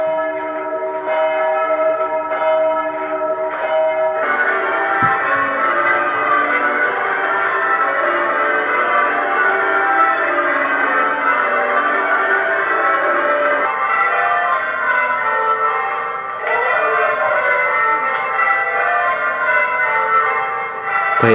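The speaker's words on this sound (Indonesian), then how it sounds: "dia narik lonceng kayak gitu tuh." Church bells ringing as a Christian call to worship, a loud, continuous peal of overlapping tolls in a repeating rhythm, with no voices.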